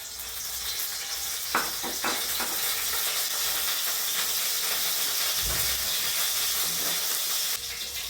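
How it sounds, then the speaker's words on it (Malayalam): Mustard seeds sizzle in hot oil for a Kerala thoran, a constant close hiss with a few sharper pops and crackles scattered throughout, no voices. "കടുക് ചേർക്കുന്നുണ്ട്."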